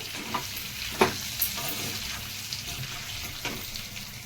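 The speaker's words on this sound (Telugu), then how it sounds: "కరివేపాకు బాగా ఇక్కడ వేయించుకుందాం" Curry leaves fry in a pan with green chillies, giving a soft, steady sizzle broken by occasional stirring scrapes, close but fairly faint.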